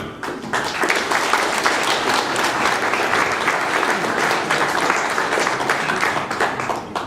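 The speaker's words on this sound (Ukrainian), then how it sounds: "Прошу вашими оплесками вітати Мамадли Ромшана Аламокли, президента компані" An audience at an award ceremony for the Order of Saint Sophia breaks into loud, sustained applause, a thick, even roar of many hands clapping close by for the whole stretch.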